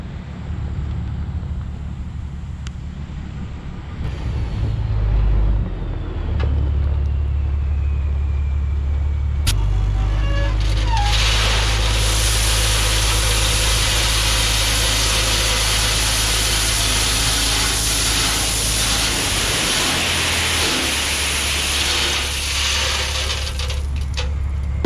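A vehicle engine idles, then revs louder and holds a steady roar while dumping gravel into a framed shed pad, with mechanical whine and clanking over the low drone, close and continuous.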